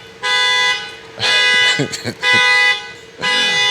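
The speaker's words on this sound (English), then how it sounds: "It's somebody else here who just let the alarm go." A nearby car alarm blares in loud, sustained electronic horn bursts separated by short gaps, with brief chirping tones between the blasts.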